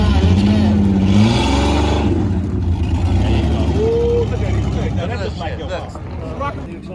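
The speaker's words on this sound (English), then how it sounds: "The exhaust don't know where that's coming from." Loud classic car engine rumble with throaty exhaust tones rising and falling at a public auction, while a crowd chatters and people talk nearby.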